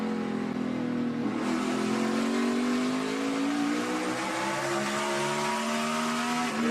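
A 2014 NASCAR Sprint Cup car roars through a qualifying lap, its engine note loud and steadily rising in pitch as it accelerates hard, with no voices over it.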